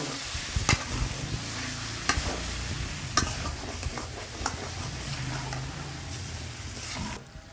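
Spiced potatoes are stir-fried in a pan, giving a steady low sizzle under sharp, irregular clacks of the spatula against the pan, fading near the end.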